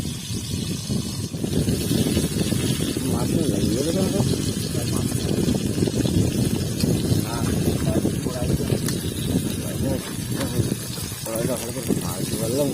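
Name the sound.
fish eyes popping while frying in a wok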